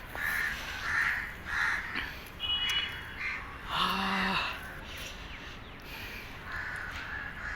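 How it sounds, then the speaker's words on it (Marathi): Crows caw repeatedly in an open outdoor spot near Thane, Mumbai, with harsh calls in a loose rhythm at moderate distance and a few other birds chirping in between. "मस्त पक्षी पण कवकवट चालू आहे पक्ष्यांची"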